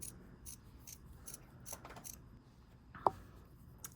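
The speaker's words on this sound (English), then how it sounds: "I'm gonna do my best to hold my scissors, right along the edge of my pendant straight" Scissors snip along the edge of a bead-embroidered pendant in a series of faint, close, crisp cuts, ending in one sharper snap near the end.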